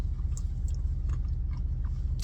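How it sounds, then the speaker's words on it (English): Close, crunchy chewing of a Louisiana fried shrimp po' boy sandwich, steady rhythmic bites and mastication filling the short clip with no talking. "Shrimp has a good crunch to it."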